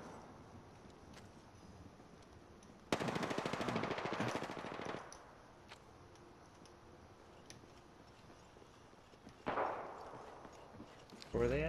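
Video-game gunfire with a hammer-style attachment: long bursts of rapid automatic fire, fairly loud, broken by quieter stretches and a final short burst near the end.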